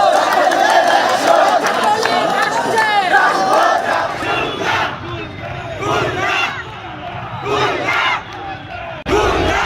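A Chhatra League procession crowd clashes in the street, many voices shouting and chanting at once in a loud, dense roar that rises and falls with sharper yells breaking through.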